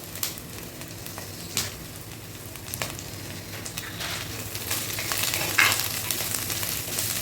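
Curry leaves sizzle in hot oil in a pan while a fish curry is being made. A steady hiss of frying runs throughout with scattered crackling pops and stirring, and no one speaks.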